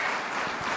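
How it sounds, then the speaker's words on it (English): A crowd breaks into a standing ovation, dense loud applause with steady clapping filling the whole short moment. "Standing ovation."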